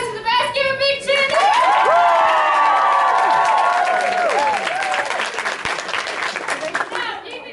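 A youth group crowd cheers loudly, with shouts and whoops rising over clapping, then steady applause with voices continuing as the cheer subsides.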